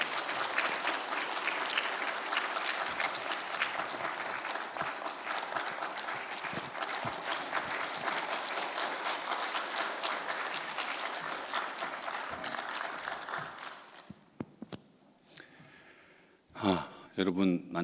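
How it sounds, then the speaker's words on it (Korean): A church congregation applauds to welcome a guest elder to the pulpit, steady dense clapping filling the room for about fourteen seconds before fading into scattered claps and a few faint sounds. "박수로 환영합니다."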